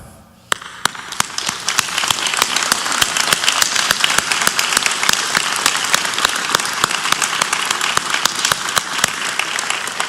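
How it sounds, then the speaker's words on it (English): Sustained applause from a large crowd at a graduation ceremony, steady and loud throughout, with sharp individual claps standing out. "Let's applaud them."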